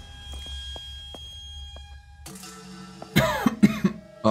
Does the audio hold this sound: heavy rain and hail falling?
no